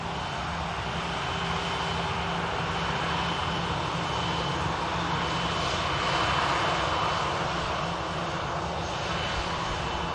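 A KLM Embraer E190 airliner at Manchester Airport gives a steady, fairly distant engine roar and broadband rush that swells slightly midway, with no talk over it.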